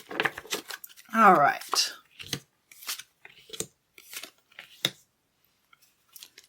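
Tarot cards shuffled by hand in a short, crisp riffling burst near the microphone, set between brief bits of speech before and after.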